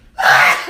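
A single sharp sneeze from a woman, a quick intake followed by a loud burst of breathy noise that fades away within a second.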